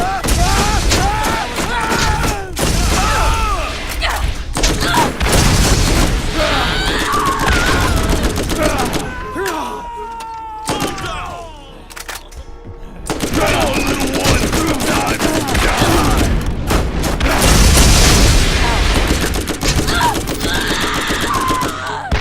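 Sustained gunfire from the video game Borderlands: dense bursts of rapid shots and booms fill most of the stretch, easing briefly midway before the barrage resumes just as loud. Voices and game sounds mix in.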